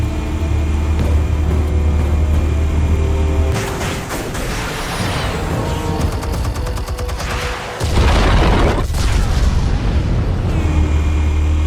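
Explosives go off in Batman: The Telltale Series, a heavy sustained blast and rumble with crackling debris that swells, cuts briefly, then resumes loud, with no talk over it.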